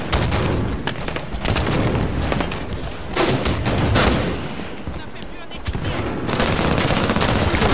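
Continuous rapid gunfire and bursts in Halo 5: Guardians fill a busy multiplayer battle, with loud shots and booms layered densely throughout and little pause.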